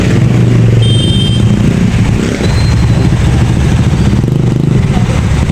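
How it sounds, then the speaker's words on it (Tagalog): Heavy, stalled road traffic on Maisan Road in Valenzuela, near the LTO office, with car and motorcycle engines idling and revving up close. The rumble is loud and continuous, with a brief high horn-like tone and faint voices in the background. "sobrang traffic dito mga kaibigan"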